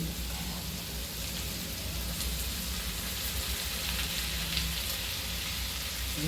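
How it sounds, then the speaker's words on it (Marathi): Onions sauté in a pan for Mumbai-style masala pav, a soft, even sizzle and crackle running steadily throughout, fairly quiet and with no speech over it. "आता थोडं आपण परतून घेऊया"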